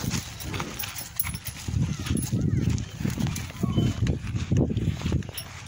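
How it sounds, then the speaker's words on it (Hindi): A bay Sindhi-breed horse, 58 inches tall and trained in the rewal gait, clip-clops with a steady, even rhythm of hoofbeats at close range. Someone talks over the hooves. "एक कुमेद घोड़ा है यहाँ पर कुमेद कलर है ये सिंधी ब्रिड है"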